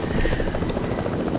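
A helicopter flies close by in the video game Fortnite, giving a loud, steady rotor thrum that pulses evenly through the whole short stretch.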